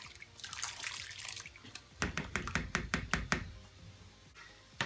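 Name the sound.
rinsed pinto beans and corn poured into pot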